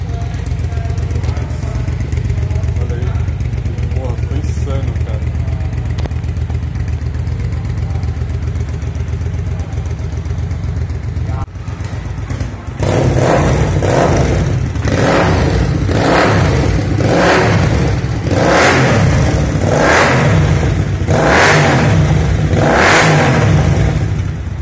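A custom Mirage 250 motorcycle engine idles loudly close to the microphone, then revs hard in a series of repeated throttle blips that rise and fall steadily through the second half.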